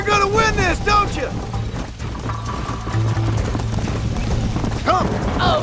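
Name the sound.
horse galloping in Red Dead Redemption video game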